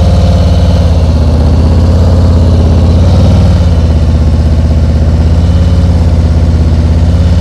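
A loud motorcycle engine runs close up at a steady fast idle, a little over 2,000 rpm, its throb rising briefly in pitch midway before settling again.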